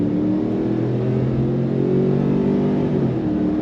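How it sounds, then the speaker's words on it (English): A 2025 Ford Expedition Tremor with a 10-speed automatic pulls away from a stop at a light, its engine rising in a steady, loud, low droning hum heard from inside the cabin. "And then pulling away from the light. On throttle, here we go."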